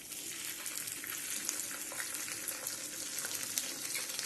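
Spices fry in oil in a pan, giving a steady, soft sizzle with light crackling, close but faint, with no talking.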